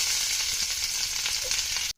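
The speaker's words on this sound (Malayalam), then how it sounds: "അര ടീസ്പൂൺ കടുക് ഇട്ട് പൊട്ടിച്ചിട്ടുണ്ട് കേട്ടോ അതിൽ നമുക്ക് കുറച്ച് കറിവേപ്പില കൂടെ ഇട്ട് കൊടുക്കാം" Curry leaves and mustard seeds sizzling and crackling in hot oil, a loud steady frying hiss close by for about two seconds before cutting out abruptly.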